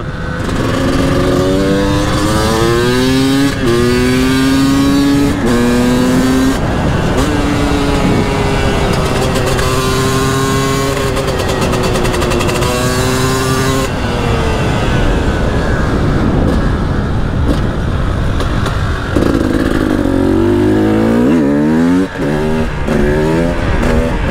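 A revving two-stroke 300 supermoto motorcycle engine rises and falls in pitch as it accelerates and shifts, loud and close, with a rider's voice breaking in at moments.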